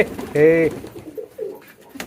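A pigeon gives a short, close coo, followed by softer cooing murmurs and light rustling, as pigeons are fed a seed mix.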